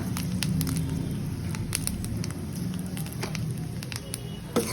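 Dry red chilies fry in hot oil for a cabbage curry with fish head, giving a dense, even sizzle with scattered crackles and pops throughout, close by.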